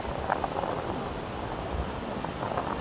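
Steady beach wind in the Philippine monsoon season blows across the microphone in a broad, continuous rush, with faint low buffeting and no talking.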